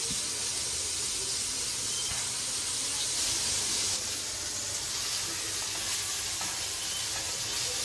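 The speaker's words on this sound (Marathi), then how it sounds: "लगेच फ्राय होतात ना बोंबील." Bombay duck (bombil) fish frying in a pan makes a loud, dense, steady sizzle with hissing spatter, close up and continuous throughout.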